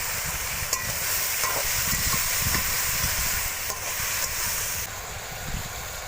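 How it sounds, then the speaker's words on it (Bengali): Vegetables sizzle steadily in hot oil in a village-style clay-stove setting, being cooked for a spicy puti fish jhal, a continuous loud frying hiss with occasional stirring clinks throughout. "এখন সবজিগুলো দেওয়া হবে সবজি ছেড়ে দেওয়া হলো তেলে"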